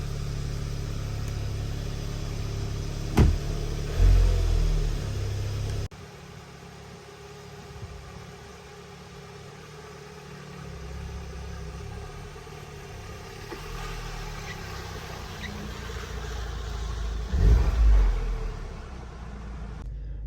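A 2016 VW Golf R 6-speed engine runs with a steady low rumble, a couple of louder revs and thumps standing out near the start and again toward the end.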